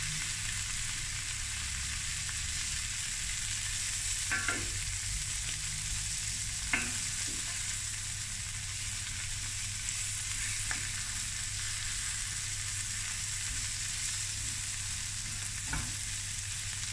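Prawns fry in butter in a pan with a steady, dense sizzle that runs unbroken throughout, with a few faint scrapes as they are turned; no voices.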